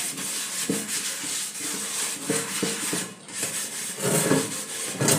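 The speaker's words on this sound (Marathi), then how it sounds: "हा साधा काथाच घेतला आणि ह्या साध्या काथ्याने हा एकदा घासून घ्यायचा आतून" Rough, rhythmic scrubbing strokes of a coir scrubber against the inside of a new cast iron tava, close and continuous.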